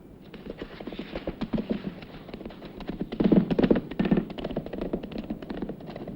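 A horse's hooves clip-clopping on hard ground in a western, a rapid uneven run of close thuds that grows louder in the middle and then eases slightly as it moves off, with no talking.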